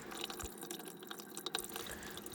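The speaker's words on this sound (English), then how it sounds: "once the water's pretty much drained down, you'll see it will stop dribbling" Water dribbling and dripping from a disconnected kitchen sink drain pipe, a steady close trickle with small splashy drips and no talk.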